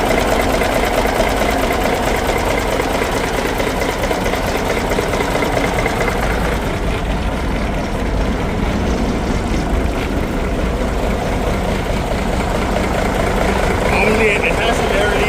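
A 350 Cummins diesel idles in an old 1962 Peterbilt 351 truck with exhaust and air leaks, a loud, steady, close rumbling chug running throughout, with someone talking over it.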